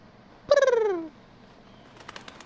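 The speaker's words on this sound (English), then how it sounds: "So there's a bird." A bird in the video game Until Dawn gives a single descending, pulsing coo lasting about half a second, fairly clear against a quiet background, followed later by faint clicking sounds.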